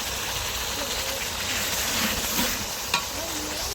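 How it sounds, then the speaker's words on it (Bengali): Fresh snakehead fish from a wetland fries in oil with turmeric and chili, giving a steady, close, crackling sizzle that carries throughout, with one brief sharp clink near the end. "তো আমরা মাছটা একটু কষাই নিব আর কি"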